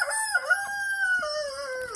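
A dark Cornish rooster crows once, a loud, clear, drawn-out call with a rising start and a long falling tail, close by and alone.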